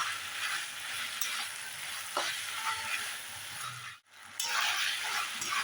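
Chopped vegetables sauté in a hot pan for idli chilli, a steady close sizzle and crackle that runs almost without a break, broken by a brief dip near the end before the frying rises again.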